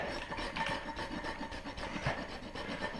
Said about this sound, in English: So the rasp, we're kind of just doing the major work.